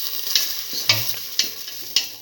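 Salted ginger frying in a pan while being stirred, with a constant sizzle and four regular scraping strokes of a utensil against the pan.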